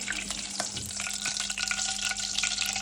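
Steady crackling sizzle of onions frying in hot desi ghee for Punjabi sarson ka saag, close and continuous, with faint stirring clinks and no voices.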